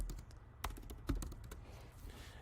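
Quiet typing on a computer keyboard, a brief run of scattered light key taps, a couple of them sharper, heard close and faint with no talk.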